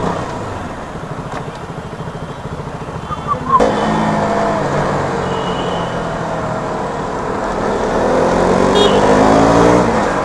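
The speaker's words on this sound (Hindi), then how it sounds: "क्या आवाज गूंजता है भाई गाड़ी का मेरे" A 200 cc motorbike engine roars on a night ride, a loud steady drone that jumps sharply a few seconds in and then holds and swells toward the end, with a rider speaking over it.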